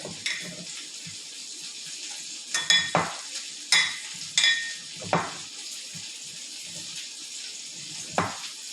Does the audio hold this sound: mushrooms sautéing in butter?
yes